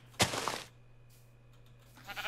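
A single sheep in Minecraft bleats loudly and close, a wavering cry lasting about half a second, followed by quiet background noise and a faint later sound.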